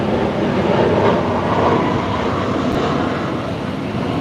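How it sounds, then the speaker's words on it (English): A plane passes overhead outdoors as a loud, steady broadband roar that swells slightly and then eases, heard alone without talk. "let the planes go by."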